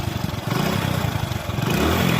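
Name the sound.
Spender 2008 model motorcycle engine kick-started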